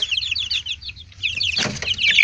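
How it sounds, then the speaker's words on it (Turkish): Roosters and chickens cluck and chatter nearby, with a brief burst of flapping or scuffling partway through over a low rumble. "Şurada horozlarımı göstereyim size."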